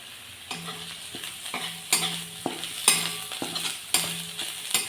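Onions frying in a pan for a whole masoor curry, with a steady sizzle broken by repeated scraping stirs at a regular rhythm, close and fairly loud, with no talking.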